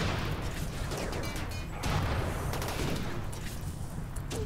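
Dense, continuous bursts of gunfire crackle nonstop in RimWorld game combat, rapid overlapping shots forming a loud, chaotic barrage.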